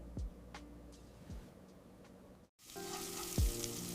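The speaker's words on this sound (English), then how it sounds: "Cook in butter until every side is golden." Egg-coated Nutella-filled bread rolls fry in butter with a soft, quiet sizzle, broken by a few light knocks and a brief gap before the hiss returns slightly brighter.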